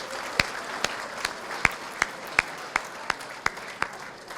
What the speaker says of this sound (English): let's give a nice round of applause to our caterers for tonight's event